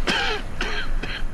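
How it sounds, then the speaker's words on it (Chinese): A man coughs three times in a row, short rough throaty bursts with brief pauses between, close and fairly loud in a quiet indoor scene. "我这怎么一表扬你就咳嗽呢？"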